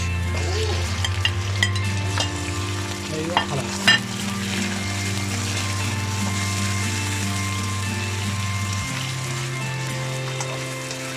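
Onions browning in a pan for a Pakistani chicken chole dish, a steady close sizzle with intermittent stirring and scraping clicks and a low hum running underneath throughout.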